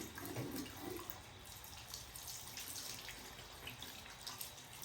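Tap water runs steadily while a doll's hair is rinsed under it, a continuous close splashing wash with no talking.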